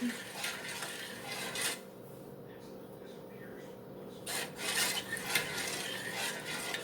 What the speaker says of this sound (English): You just keep stirring it till it's all melted in there and heat it up.